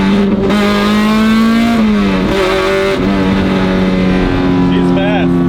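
A fast car accelerates hard, its engine droning loud and close with a steady rising-and-falling pitch through gear changes, filling the whole stretch; voices are mixed faintly under the roar.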